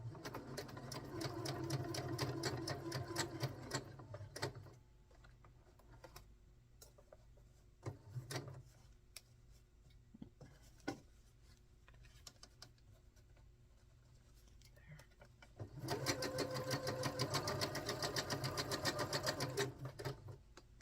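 A sewing machine stitches a quarter-inch seam on a quilt block, running in two long bursts of steady rapid stitching at the start and end, with quiet handling sounds and brief taps in between.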